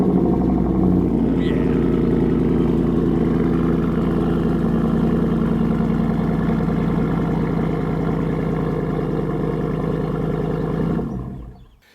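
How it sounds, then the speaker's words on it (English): Deep, steady rumble from a Ram truck running an AWE 0FG exhaust, idling loud and close for about eleven seconds before cutting off abruptly. "if you're wondering what that beautiful sounding exhaust is, that is the AWE 0FG exhaust"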